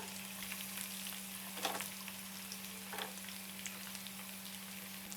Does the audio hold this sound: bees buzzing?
no